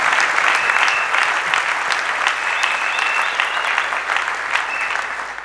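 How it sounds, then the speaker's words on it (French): A church congregation claps and cheers for Jesus, giving dense, loud, sustained applause with shouts mixed in that fills the whole stretch. "Acclamez Jésus."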